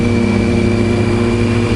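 A motorcycle engine running close and loud with a steady, rough mechanical drone and a slight revving quality, heard alone over a brief stretch.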